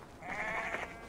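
A single sheep bleats briefly in Assassin's Creed Valhalla, a short wavering animal call heard close and alone with no talk over it.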